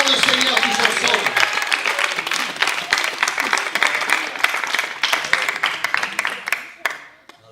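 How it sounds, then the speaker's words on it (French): Church congregation clapping their hands together, a dense, loud round of applause filling the room that fades out near the end, with voices mixed in. "Clap your hands to the Lord."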